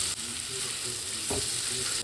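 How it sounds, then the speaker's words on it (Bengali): Half-fried potatoes with chopped onion sizzle in hot oil with turmeric and salt in a pan, a constant close crackle and hiss with a soft stirring knock. "আলুটা হাফ ভাজা হয়ে গেছে এবার দিয়ে দেবো পেঁয়াজ কুচি"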